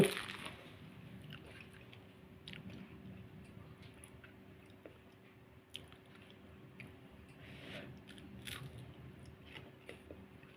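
Someone eating crispy home-marinated sun-dried fish: faint, close crunchy bites and soft chewing noises scattered across a quiet background, with no talking.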